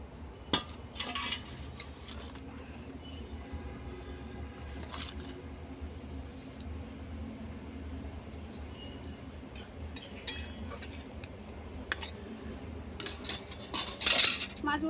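Metal utensils clink and scrape against a pot as fish goes into a curry cooking on a clay stove, with scattered sharp chinks over a low steady simmer and a busier cluster of clatter near the end, no talking.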